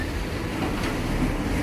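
A truck passes on a street in Saigon: a steady, loud broadband rumble and roar close by, with no speech.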